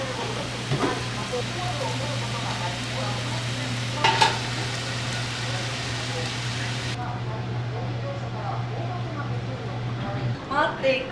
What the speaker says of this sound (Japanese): 彼が野菜炒めた